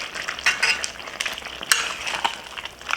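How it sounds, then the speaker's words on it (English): Chicken curry stew stirred in a cast iron pan, a spoon scraping and clinking against the metal in short uneven strokes over a soft sizzle, close up with no voices. "the reason we're stirring it is to make sure that it's not sticking at the bottom, especially if you're using a cast iron pan like this"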